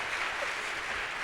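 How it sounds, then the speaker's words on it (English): Audience applause for volunteers at a classroom flashcard demonstration: a steady wash of clapping throughout a short burst, moderately loud and without talk. "let's have a big round of applause for our volunteers"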